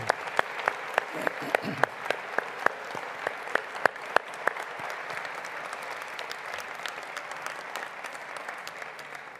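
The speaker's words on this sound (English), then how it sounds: "Let's give our spring graduates of 2024 a big round of applause." At a University of Strathclyde Faculty of Science spring graduation ceremony in 2024, the audience applauds the graduates: a few sharp, separate claps open it, then they swell into a sustained roar of clapping from a large crowd.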